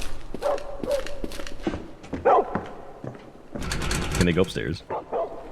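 Dogs bark in the video game Project Silverfish, several short barks scattered through the clip alongside footstep-like thumps, with a player talking over them.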